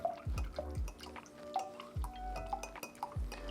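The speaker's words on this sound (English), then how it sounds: "Now we're gonna slowly pour in our cocktail while stirring." Pumpkin pie cocktail slowly poured into cold whole milk while stirring, with a run of close drips, liquid splashes and light clinks of a spoon against glass repeating every half second or so.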